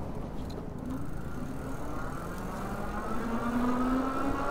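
Electric bike pulling away from a standstill under throttle alone, a faint motor whine climbing steadily in pitch over soft rolling road noise.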